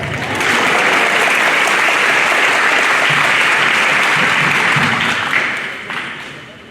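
Audience applause at a high school senior awards ceremony, a broad, full wash of clapping that swells quickly, holds strong, then tapers off toward the end.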